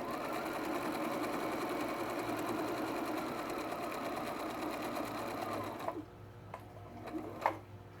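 A sewing machine runs in a steady rapid stitching rattle while sewing a drawstring pouch, then stops around the end, leaving a few light clicks and handling noises.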